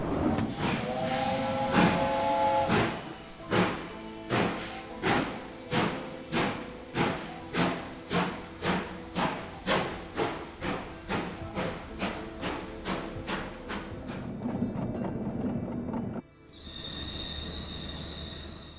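Steam train in the video game RailGods of Hysterra, with a long rhythmic run of sharp, evenly spaced chuffing blasts that gradually quicken, opening with a whistle-like tone and ending in a hiss and a high whine.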